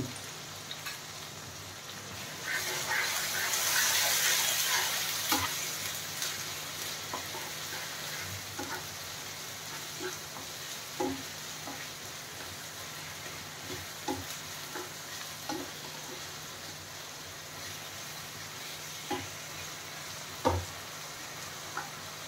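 A ginger and spice paste with salt fries in a pan with a constant soft sizzle, a louder hiss near the start, and scattered stirring clicks throughout.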